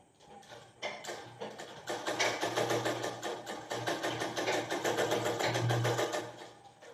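A sewing machine stitches fabric for a knicker sewing lesson, running steadily with a rapid mechanical whir and needle ticking after a brief start, close and loud with no voices.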